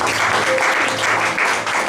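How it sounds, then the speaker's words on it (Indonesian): A church congregation applauds, a dense wash of clapping from many hands filling the space evenly and loudly for a short stretch. "Tepuk tangan buat Tuhan."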